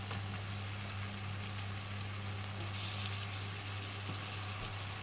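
Tomatoes cook down in a pan for a vegetable tagine, giving a continuous, even sizzle and crackle with a low steady hum underneath and no talking.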